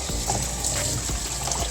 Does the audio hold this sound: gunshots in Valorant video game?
no